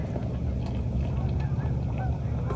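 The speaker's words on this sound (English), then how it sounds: "All the geese flying around this morning." Scattered goose honks rise over a steady low rumble, several birds calling irregularly at a moderate distance.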